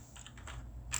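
Computer keyboard keys tapped in quick succession for a Ctrl G shortcut, several soft close clicks within a second over faint low hum.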